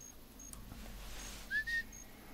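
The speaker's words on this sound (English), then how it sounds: "I'm going to give him a whistle." A short, faint two-part whistle calls a dog in the hunting video game theHunter Classic, heard over a quiet outdoor ambience.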